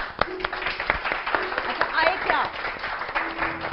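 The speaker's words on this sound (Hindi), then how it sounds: "उनके लिए बहुत सारी तालियां" Brief audience applause for an actress during an Urdu talk show interview, a soft patter of scattered claps with a voice speaking over it throughout.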